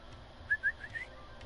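Small bird in Genshin Impact giving a few clear chirping whistles, two brighter tweets followed by softer trailing notes, close and alone over faint game ambience.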